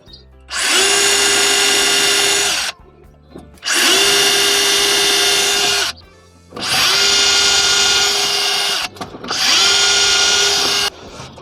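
DeWalt DCH072 cordless rotary hammer drilling in four loud, close bursts of about two seconds each, steady high-pitched whirring grind separated by short pauses, with no talking.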